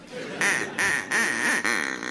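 A duck quacks in a studio comedy panel game, three or four loud nasal quacks in quick succession, close and clear.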